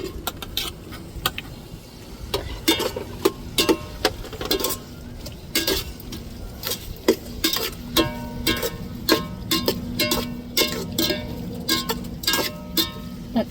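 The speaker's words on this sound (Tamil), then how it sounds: "இப்போ தக்காளியை சேர்த்துக்கிடுவோம்." Tomatoes stirring and sizzling in a pan for a home-cooked dish, with repeated sharp metallic scrapes and clinks of a spoon against the pan over a steady low frying hiss, close and moderately loud.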